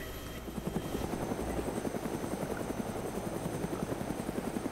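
A helicopter in the game DayZ thumps with fast, rhythmic rotor beats under a steady engine whine, loud and close throughout.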